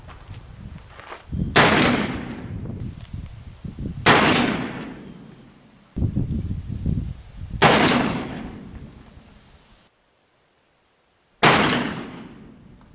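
Four loud gunshots from an 1851 Pietta .44 caliber brass-frame revolver with plastic grips, fired outdoors at a target, each sharp crack trailing off over roughly a second, spaced a few seconds apart with a pause before the last.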